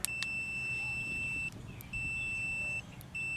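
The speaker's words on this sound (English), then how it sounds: "Hear the beep. That's how you know you got continuity." High electronic multimeter continuity beep sounding in three long tones with short gaps between them, preceded by faint clicks, over quiet room noise.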